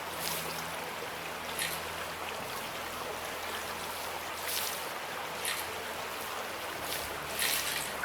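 Water is dumped out in the Gold Mining Simulator video game, a soft continuous sloshing and trickling with a few brief splashy bursts, fairly quiet and without talk.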